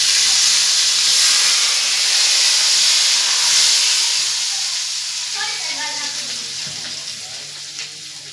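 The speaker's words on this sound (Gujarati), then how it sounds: "ચટણી ઉપર તેલ ઉપરથી આપણે ફોડશું ગરમ કરીને" Hot oil is poured over pav bhaji chutney and breaks into a loud, close, hissing sizzle that slowly fades and settles into softer crackling as it dies away.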